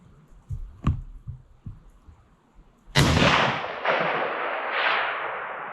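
A single loud, sharp shot from a 300 Win Mag sniper rifle cracks out close by, followed by a long rolling echo, after quiet rustling and small handling knocks.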